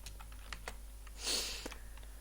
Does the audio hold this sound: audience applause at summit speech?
no